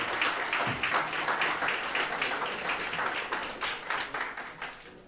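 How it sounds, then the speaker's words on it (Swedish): Audience at a Swedish coffee championship applauding, a dense, steady wash of many hands clapping that carries on throughout. "Och vilken otrolig applåd."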